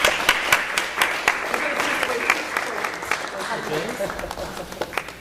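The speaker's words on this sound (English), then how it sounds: "I think he deserves a round of applause." Sustained crowd applause fills a board of education meeting as an audience honours a past board president with an award, with steady overlapping claps that swell and ease over several seconds.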